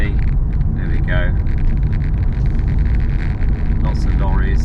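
Heavy lorries rumble past on a road near a Somerset campsite, a continuous deep engine and tyre roar with a passing whine or two rising over it, loud and close throughout.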